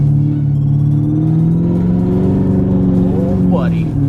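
A 730hp 2016 GMC Denali Duramax diesel truck rumbles loud and close, its engine climbing in a deep rev before backing off near the end, with brief talk over it.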